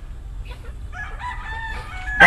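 A kamistiso rooster gives a long, clear crow over faint low background rumble, ending in a sudden louder burst.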